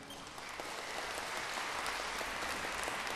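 Audience applause after an erhu duet at a Chinese traditional orchestra concert, steady dense clapping from a hall crowd, fairly distant and even, with no talk over it.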